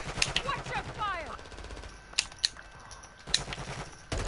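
Gunfire in a shooter video game, with a few sharp shots and short bursts scattered irregularly among other game effects, moderately loud.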